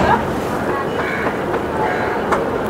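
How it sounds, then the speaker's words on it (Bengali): A passenger train on the Howrah–Digha line pulls out of platform 3 at Santragachi station, giving a steady, continuous rumble of railcars with faint wheel clatter that sounds from close by and fills the whole stretch. "আমাদের ট্রেন সাঁতরাগাছি স্টেশনের 3 নম্বর প্ল্যাটফর্ম থেকে ছেড়ে দিল"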